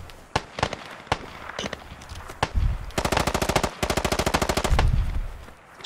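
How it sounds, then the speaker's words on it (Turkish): Automatic gunfire rattles in the infantry video game Squad: scattered single shots, then long rapid bursts of machine-gun fire nearby, loud and sharp, with no voices over it. "Sıkıyorlar ya."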